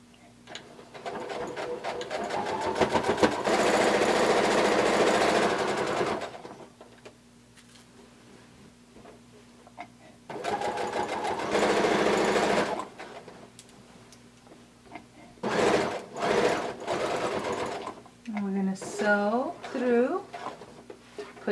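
Sewing machine stitching a pocket onto a blanket coat, with bursts of rapid mechanical whirring separated by pauses, and a person talking between and over the runs.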